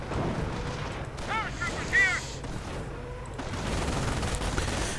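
Gunfire and artillery fire in a WWII strategy video game, the battle involving German Panzer Lehr grenadiers and anti-tank units, with scattered shots and booms running as a continuous background under the battle and a voice.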